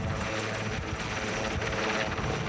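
Military helicopter in 1999 Kosovo, a continuous rotor and engine roar heard close and loud, steady throughout with a rhythmic thumping texture.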